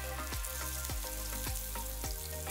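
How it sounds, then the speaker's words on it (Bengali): Whole fish shallow-frying in a few spoonfuls of cooking oil over medium heat, a steady dense sizzle with regular crackling pops and spatters close by, no voices. "এবার মাছগুলোকে ভেজে নেব।"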